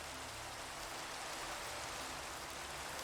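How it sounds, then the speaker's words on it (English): Steady hiss of rain falling in the Minecraft world, a dense even wash with no breaks, moderately quiet and alone. "let's get rid of this rain while we're at it, because I hate recording in the rain."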